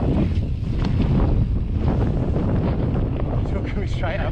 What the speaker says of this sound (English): Wow, very windy.